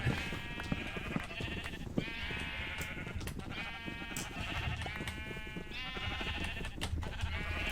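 Several Minecraft sheep in a 1.19.2 survival world bleat over and over, their wavering cries overlapping in a busy, constant flock chorus with no talking.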